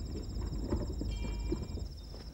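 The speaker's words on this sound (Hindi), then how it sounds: "ये तो बैलगाड़ियों की घंटी की आवाज है" Bells on bullock carts headed to the Etawah grain market jingle in a steady shimmering ring over rhythmic hoof clops and low rumbling wheels, close and continuous.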